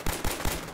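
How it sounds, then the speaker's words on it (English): Automatic gunfire from the video game Fallout 4: three loud, fast bursts of shots in quick succession, sharp and close, with no talking over them. "Who is fucking firing some goddamn automatics?"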